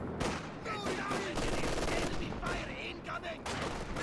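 Dense, continuous light machine gun fire in the WWII strategy game Company of Heroes 2, sustained bursts layered with other battlefield gunfire filling the whole stretch at moderate loudness, with no speech over it.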